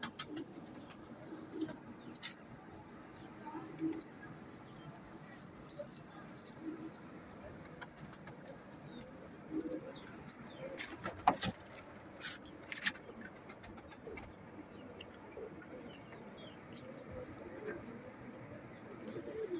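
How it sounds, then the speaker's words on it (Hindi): Miyan Sahab breed pigeons coo quietly in a loft, low murmuring calls under light background rustle, with a brief sharp clatter near the middle. "ये मियाँ साहब वाले कबूतर हैं।"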